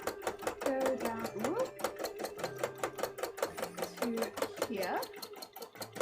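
A sewing machine stitches cosplay fabric in rapid, even pulses, close and fairly quiet, while a person talks over it.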